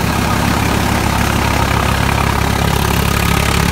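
An Eicher tractor engine running a chaff cutter through a slipping belt, a loud, steady, throbbing engine drone that carries on without pause, close by.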